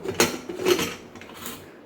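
A pressure cooker lid is fitted and clicked shut, giving a couple of short metallic clanks and a light scrape, close and fairly quiet.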